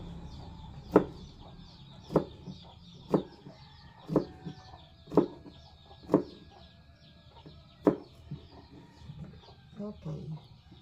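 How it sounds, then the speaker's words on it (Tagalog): Chickens cluck in a loose, repeated rhythm, sharp calls spaced about a second apart over a low background murmur. "Ang ingay ng mga manok doon sa likod."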